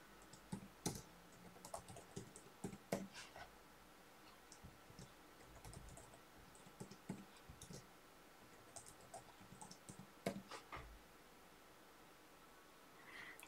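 A password is typed on a computer keyboard in irregular bursts of close, crisp key clicks with short pauses between groups, quiet and alone with no voices.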